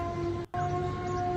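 An air raid siren sounds in Lahore during a blast, a steady sustained wail with a very brief dropout midway.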